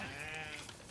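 A single sheep on a Tudor-era farm gives a short, quavering bleat, fairly faint and alone.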